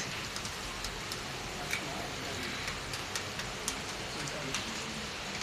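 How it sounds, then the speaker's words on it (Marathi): Heavy rain pours down outside a house under a fully clouded sky, a steady, dense hiss that holds close and unbroken throughout, with scattered sharp ticks of individual drops striking nearby surfaces. "खूप मोठा चालू आहे पाऊस आज."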